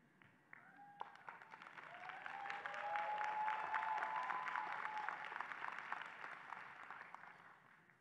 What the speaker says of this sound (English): as we give these new graduates a round of applause